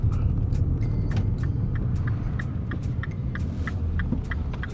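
A stock Mini Cooper S heard from inside while driving, a steady engine drone and road rumble with a faint rhythmic ticking, no talk.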